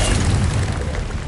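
Confringo fire spell blast in Hogwarts Legacy, a single loud, close, deep booming explosion with a rumbling burst that fades slightly over a second.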